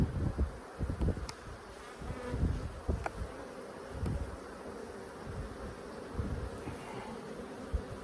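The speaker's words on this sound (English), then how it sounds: "Don't want to roll those bees." Honey bees droning steadily around an opened hive during an inspection, a continuous close buzz with soft clicks and knocks of frames being handled.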